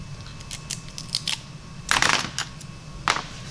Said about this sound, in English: So let's cut a new piece of tape here.